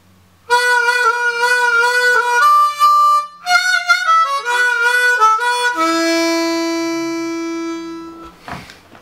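Harmonica in A plays a bending riff, with sustained and wavering notes around the 4 draw, ending on a long held bent tone, solo and close.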